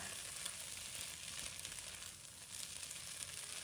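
Tofu and egg with scallions stir-fried in a wok, giving a continuous hiss of sizzling oil with soft stirring underneath, steady and fairly quiet, no voices.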